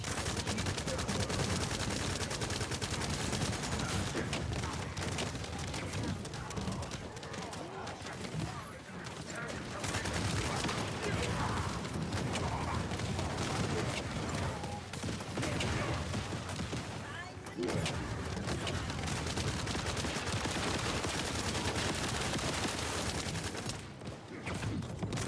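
Continuous automatic gunfire and mechanical weapon noise from The First Descendant shooter game during a 400% Infiltration boss fight, dense and loud throughout with brief lulls, mixed with game effects and occasional talk.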